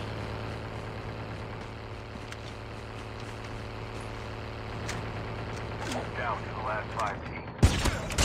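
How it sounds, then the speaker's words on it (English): Gunfire during a Call of Duty Mobile match, shots arriving from behind, heard as scattered, fairly faint bursts over a constant low engine-like drone, with a sharper loud crack near the end. "one guy's shooting behind."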